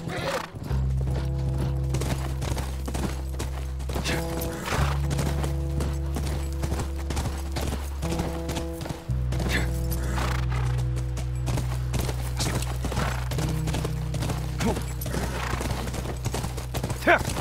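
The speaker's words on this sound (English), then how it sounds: "That's our horse." Horse in The Last of Us galloping with steady clip-clop hoofbeats and occasional neighs, heard under a continuous low game music drone, with people talking now and then.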